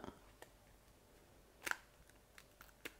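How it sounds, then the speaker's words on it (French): Scissors snipping small shapes out of cardboard, a few sharp, separate cuts and clicks close by, quiet between strokes, with no talk. "Je vais déjà découper toutes mes petites formes."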